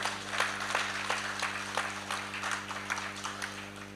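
Audience clapping at a Jain religious sermon in a hall, a steady patter of many hands with soft irregular peaks, moderately distant and continuous with a constant electrical hum beneath.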